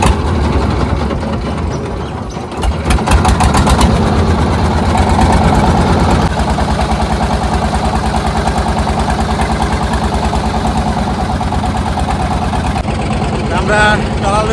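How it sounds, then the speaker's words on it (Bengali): A reserved motor trawler boat's engine runs steadily and close by with a continuous chugging drone, while people talk over it. "আমরা ট্রলার রয়েছি একেবারে রিজার্ভ ট্রলার, যাতে একেবারে ঘাটে যেতে পারি"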